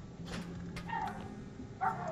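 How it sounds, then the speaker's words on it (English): Dog barking inside the Roblox horror game Pressure: a few short yips and bow-wows rise over a steady low droning background, with a louder bark near the end. "And the dog's barking!"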